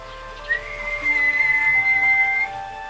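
Kettle on a balcony boiling water for coffee, letting out a thin steady whistle that rises in after a short click and holds for about two seconds, fairly quiet and alone.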